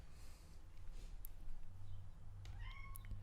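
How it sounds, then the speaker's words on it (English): A cat gives a short meow near the end, fairly close and distinct over a background of low rumble and faint room noise. "I have a kitty cat under me."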